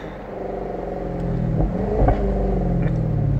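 A Jaguar F-Type R with its V8 engine revs up from a low rumble into a rising, throaty roar, with a couple of sharp crackling pops near the end, heard close from inside the car.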